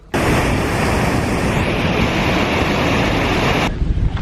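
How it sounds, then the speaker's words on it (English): A New Zealand waterfall roars up close, a dense, steady rush of falling water that starts abruptly, holds loud and constant for a few seconds, then cuts off. "Well, I love a good waterfall,"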